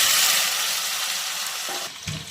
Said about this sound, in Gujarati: તેલ ગરમ થયા બાદ 1 ચમચી રાઈ એડ કરીશું. હવે તેમાં આદું, લસણ અને મરચાંની પેસ્ટ,